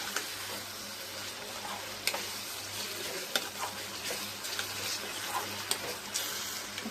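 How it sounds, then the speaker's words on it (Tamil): A ladle stirs boiling garlic kuzhambu in a pot, giving a quiet, steady bubbling simmer broken by soft scraping clinks every second or so, with no voices. "இப்போ ஒரு கரண்டி வச்சு நல்லா இந்த மாதிரி மிக்ஸ் பண்ணி விடுங்க"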